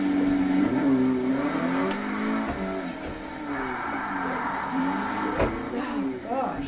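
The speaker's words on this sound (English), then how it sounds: "I'm going to try to drift around here in second gear," Engine of a Forza Horizon 3 drift car revving in second gear while sliding around a parking lot, a steady droning engine note rising and falling throughout, with a voice talking over it.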